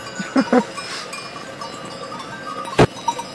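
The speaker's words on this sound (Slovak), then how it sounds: "cez cestu išli práve kozičky. Áno, kozy. Aj s pastierom." Goats crossing a road in Sardinia with their shepherd, with a few short bleats and a sharp louder bleat nearby amid soft rustling background.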